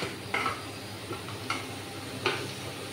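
Ground cumin and ginger paste fries in a pan for a pointed gourd curry, a quiet steady sizzle punctuated by three distinct scrapes of a spatula stirring against the pan, with no voices.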